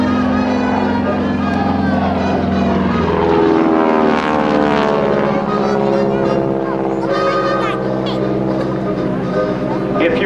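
A beautifully restored T-6 Texan propeller airplane flies at an air show, its loud, throaty engine and propeller drone sustained throughout, with the pitch shifting as it passes overhead.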